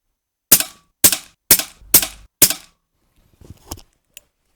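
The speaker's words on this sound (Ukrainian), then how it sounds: "Одразу ж зроблю 5 пострілів по верхній правій мішені." Five sharp, evenly spaced shots from a Snowpeak PP750 PCP 4.5mm air rifle ring out close and loud, each with a short decaying tail, followed by a few faint clicks.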